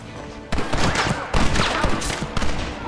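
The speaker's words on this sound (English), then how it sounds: "You man the Gatling gun" A Gatling gun firing in Red Dead Redemption, dense bursts of rapid gunfire in loud clustered volleys separated by brief lulls, close and continuous.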